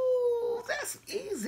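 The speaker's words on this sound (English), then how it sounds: "I hope y'all do not hear the dog barking." A pet dog indoors gives high, wavering whines and howl-like yelps, close and fairly loud, while someone talks over it.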